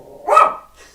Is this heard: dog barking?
yes